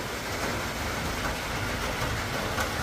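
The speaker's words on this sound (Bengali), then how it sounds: "আবার আজকে জোর বৃষ্টি হচ্ছে" Heavy monsoon rain falling outdoors, a dense, steady broadband roar of rainfall that stays loud and even throughout with no talk.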